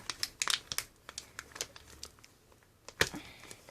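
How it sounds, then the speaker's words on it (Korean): A plastic zip bag holding EXO merchandise being torn open and handled, close crinkling and a series of sharp crackles, with a louder tear near the end and no talk. "이제 이 지퍼백을 뜯어볼게요."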